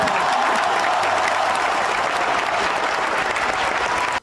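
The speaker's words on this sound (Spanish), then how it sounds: "Otros aplausos más." Audience applause fills a radio program's live studio, a dense, steady wash of clapping that runs loud and unbroken for about four seconds before cutting off abruptly.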